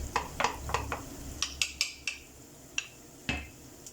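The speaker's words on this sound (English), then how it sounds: "Okay, I'll give this a little stir." A utensil scrapes and knocks against a pan holding hake and seafood stew, a run of sharp metallic clinks and taps at an uneven pace, close and clear.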